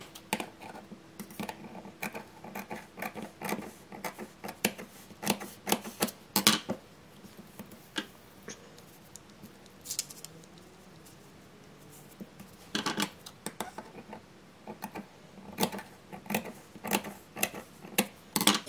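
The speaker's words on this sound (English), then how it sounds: "now we gotta go ahead and cut the fabric" Scissors snip through fabric for miniature dollhouse pillows, giving quiet, close, irregular clicks and cuts in short bursts with a pause in the middle, no talking.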